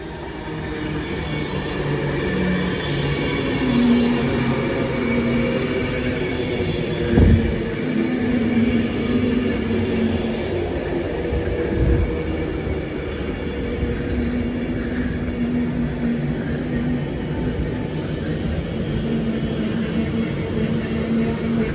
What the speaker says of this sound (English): now coming into platform number 4 is the 1143 Avanti West Coast service from Manchester Piccadilly to London Euston